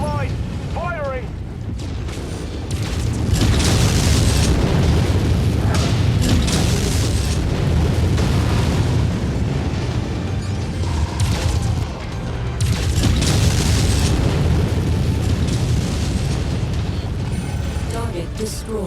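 Missile volleys launching and exploding in the MechWarrior video game, sustained loud rumbling booms and bursts that swell in two long waves, with a synthetic cockpit voice announcing over the blasts.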